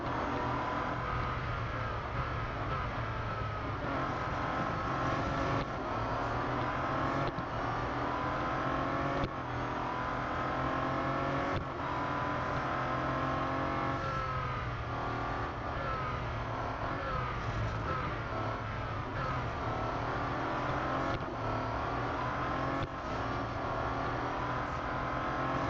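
A Bentley Continental GT Speed races a short-circuit lap at Hockenheimring in the game Real Racing 3, its engine droning steadily and loudly with repeated rising revs and gear shifts, and no talk.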